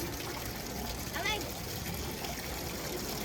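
Water flowing steadily at a farm house in Pililla, Rizal, a constant close trickling wash under a brief voice.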